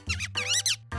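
A cartoon character vocally imitates rabbit language with two bursts of high, squeaky, chirping babble, separated by a short gap, over a low steady hum.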